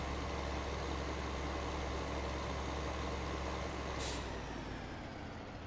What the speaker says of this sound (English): Just apply the brakes at the junction here.